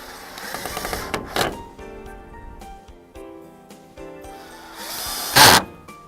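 A power drill drives 1¼-inch screws into a Sunshine Gardenhouse 6 x 8 greenhouse frame, giving two short, sharp whirring bursts separated by quieter handling clicks and knocks.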